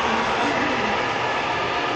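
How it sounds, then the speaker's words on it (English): A train rumbles past at a railway museum in San Diego, a close, loud, steady rushing roar with no break over the short span. "Oh, there's a train that's going off."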